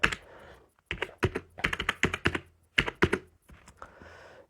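Computer keyboard keys tapped in quick bursts while an Aadhaar number is entered into an online NEET exam registration form, close and crisp with short pauses between groups of keystrokes.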